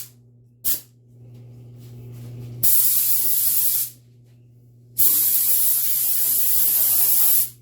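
Air hose blasting compressed air over the bodywork of a square body Chevy truck, two long loud hissing bursts, the first about a second long and the second several seconds, preceded by a brief short puff and quiet gaps between.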